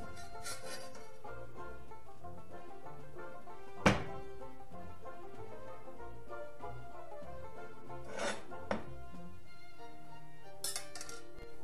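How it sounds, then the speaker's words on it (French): A few hollow knocks on the crusty underside of a freshly baked loaf of bread, one sharp tap followed later by a couple of quieter ones, with faint background music. "je toque juste en dessous. S'il sonne creux, c'est qu'il est cuit"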